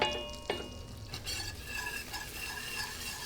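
Flour stirred a little at a time into melted butter in a pan for a bechamel, a close, continuous sizzling fry with a spoon scraping and swishing through it, one sharp clink at the start.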